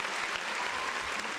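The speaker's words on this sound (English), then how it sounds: "I clap loud today" An audience applauds a podcast co-host at a live show, dense continuous clapping from many hands, even and sustained, slightly distant.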